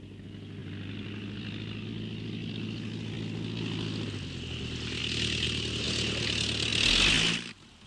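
A propeller aircraft comes in to land in an animated film, its engine drone swelling louder with a rising high whine, then cutting off abruptly as it touches down.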